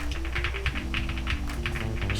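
Typing on the first keyboard of a blind keyboard-sound comparison, a steady run of quick, close, crisp keystrokes in an even rhythm, with no talking.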